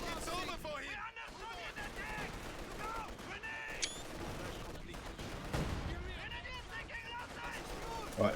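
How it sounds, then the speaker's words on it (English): Two machine guns fire in Company of Heroes 2 amid dense battle noise, rattling bursts mixed with other gunfire and explosions, with a commentator talking over the action. "Double MGs firing."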